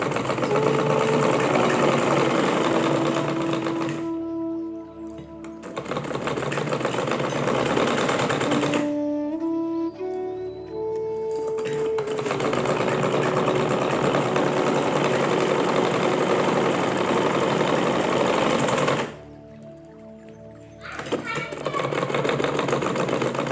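A sewing machine stitches along the width side of a homemade pillow cover, giving a steady close whirring in long runs broken by a few short pauses.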